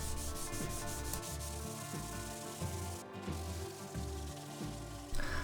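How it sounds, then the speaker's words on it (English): Sandpaper rubbed by hand along a thick 12mm steel knife blade, rhythmic back-and-forth scraping strokes at close range, steady and repetitive with no speech. "so I move on to hand sanding."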